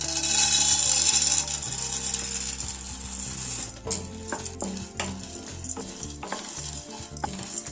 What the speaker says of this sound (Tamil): அடுப்பில் ஒரு ஃப்ரை பேன் வச்சு கொஞ்சமாக நெய்யை விட்டு 1 கப் பொரிகடலை போட்டு ஃப்ரை பண்ணிக்கிட்டோம்